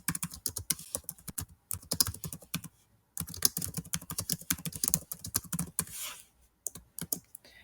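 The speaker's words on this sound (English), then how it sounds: "You can type the information you want on your sticky note here." Typing on a computer keyboard, with rapid, close keystroke clicks in bursts, broken by a short pause near the middle and a few brief gaps.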